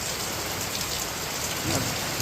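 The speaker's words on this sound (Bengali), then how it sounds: "বৃষ্টিটা কেমন হচ্ছে বৃষ্টিটাও ভালো হচ্ছে" Heavy rain from Cyclone Remal pours down steadily in a dense, loud hiss in Arambagh, West Bengal, with no voices.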